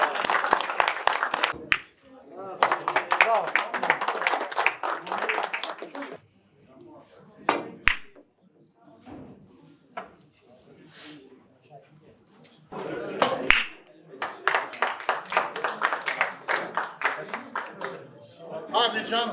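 Audience applause at a municipal billiards competition in Battalgazi, dense clapping bursts at the start and again near the end, with quieter hall noise and scattered voices in between.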